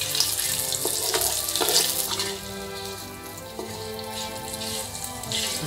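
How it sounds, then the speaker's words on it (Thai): Blanched liver stir-fried in a pan for a Thai dish gives a steady close-up sizzle and crackle with scraping stirring noises, running continuously for several seconds with no talking. "ผัดเล็กน้อยให้มีกลิ่นหอมอ ตับนี่คือลวกไว้ก่อนแล้วด้วยแล้วก็มาผัด"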